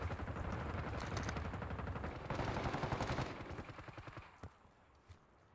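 Rapid gunfire from a Jackal weapon in Black Ops 6 Warzone, a dense burst of loud repeated shots that thins into scattered cracks and fades near the end, with no talking.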